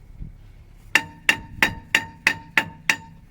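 A hammer striking metal seven times in a steady rhythm on a brake caliper bolt of a BMW X5 E53, sharp ringing clanks close by, each about a third of a second apart, with no talking.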